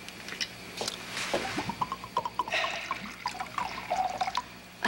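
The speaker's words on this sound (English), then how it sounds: "Now, pour in the whiskey." Whiskey poured into a hot toddy glass with nutmeg, a soft trickling splash with scattered drips at moderate distance, fairly quiet and unaccompanied by talk.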